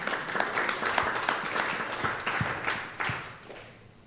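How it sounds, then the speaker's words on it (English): Applause from the audience at a September 2011 art and media final event, a moderate patter of many hands with a few louder claps, tapering off at the end. "Maybe applause for them if in case they're watching."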